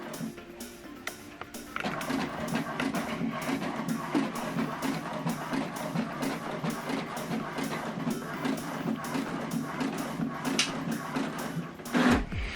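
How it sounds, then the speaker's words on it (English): HP Deskjet printer printing a second page, a close mechanical whir with rapid regular clicking and a rhythmic pulse of the print head shuttling back and forth, steady for most of the stretch, no voices. "now the second page is printing"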